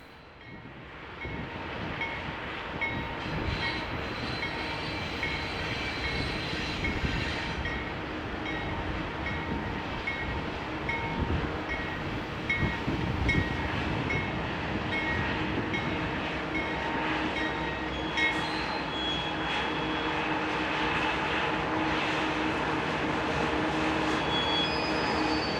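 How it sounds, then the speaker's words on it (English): A Canadian Pacific-operated freight train led by Norfolk Southern diesel locomotives rolls past near Kansas City, a continuous loud rumble of engines and rail wagons with clattering wheels building slightly over nearly half a minute, no voices. "A bit of Norfolk Southern power at the head of this Canadian Pacific operated train."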